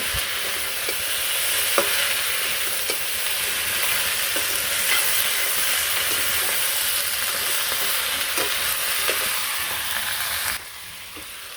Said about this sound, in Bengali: হলুদ মরিচের ফাঁকি আর লবণ দিয়ে একসাথে দিয়ে সবজিগুলো দিয়ে দিলাম সাথে কাঁচামরিচ আছে